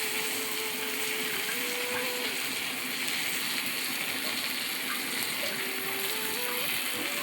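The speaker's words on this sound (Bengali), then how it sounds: "এই জলটা দিয়ে দিলাম" Water poured steadily into a cooking pot of sonamug dal being made with katla fish head, a continuous loud gushing splash that lasts the whole stretch, with no talking.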